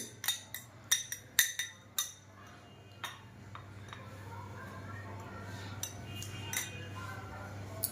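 A spoon clinks and scrapes against a bowl while mixing strawberries with powdered sugar, a quick series of sharp metallic taps at first, then softer continuous stirring under a steady low hum.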